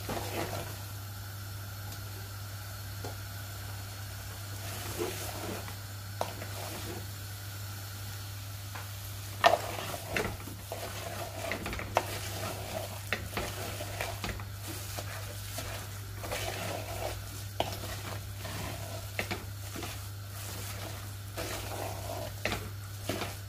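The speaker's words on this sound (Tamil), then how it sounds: "இந்த மாதிரி நாங்கள் ஒரு 10 நிமிஷம் இந்த வறையை வறுக்க போகிறோம் எண்ணெயிலே." Shark meat varai frying in oil in a pan, a soft continuous sizzle broken by scattered scraping stirs and occasional clinks over a steady low hum, no one talking.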